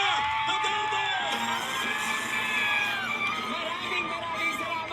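A large political rally crowd cheers, whoops and shouts continuously, with overlapping voices and chanting filling the space.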